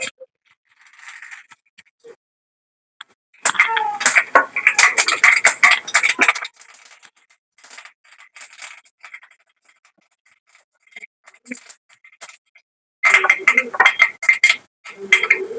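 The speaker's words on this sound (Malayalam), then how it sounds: "കടുക് പൊട്ടിയിട്ടുണ്ട്." Bursts of crackling, spattering pops from mustard seeds hitting hot oil, coming in two loud clusters with quieter crackles between, close by.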